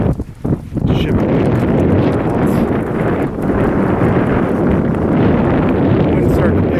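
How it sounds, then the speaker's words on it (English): Loud, continuous wind buffets the microphone outdoors on an island peninsula, a heavy low rumbling roar that fills the whole clip after a brief uneven start. "Wind's starting to pick up. Hopefully it doesn't affect the mic too bad."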